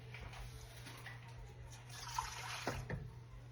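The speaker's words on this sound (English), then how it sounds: "we're gonna do a cup and 2 tablespoons of warm water into my stand mixer bowl" Warm water pours into a stand mixer bowl, a faint, soft trickling and splashing with a couple of small clinks near the end.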